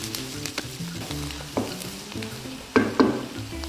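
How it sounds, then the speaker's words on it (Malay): Shallots sizzle in a wok with curry leaves while being stirred, a steady frying hiss punctuated by a few sharp scraping clanks of the utensil against the pan, with no talk. "Masukkan sedikit haba campur bawang merah ke dalam kuali dan kacau sehingga naik bau."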